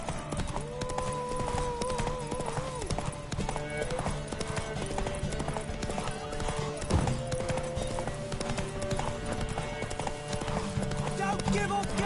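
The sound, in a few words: horse galloping hooves in The Witcher 3 video game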